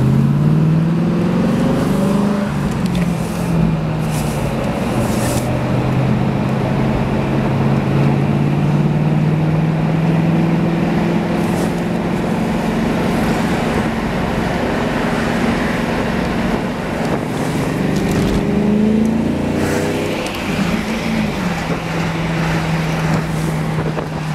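A 2001 Ford Mustang Roush convertible with a 4.6 V8 on the road, its steady engine drone rising and falling with shifts, heavy wind rush over the open top, no talking.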